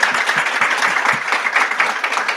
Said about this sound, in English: can we get a round of applause for this amazing panel?